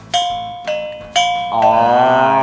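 Three bright metallic strikes ring out in succession on a cast metal gong, each decaying with a clear sustained tone, followed by a fourth sustained, shimmering ring that holds steady.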